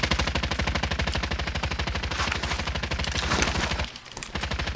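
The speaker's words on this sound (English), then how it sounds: "Getting shot from below." Video game gunfire rattles in a rapid, continuous automatic stream, loud and close, with a brief gap near the end before the shooting picks up again.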